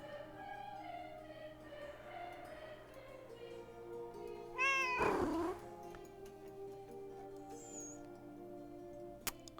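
A cat in the video game Book of Hours: House of Light lets out a single clear, drawn-out meow midway, rising then falling over quiet ambient background tones.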